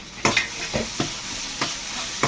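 Shallots, tomatoes and garlic sizzle and fry in a pan while a spoon stirs them, with a steady close hiss broken by sharp scraping clicks of the utensil against the metal.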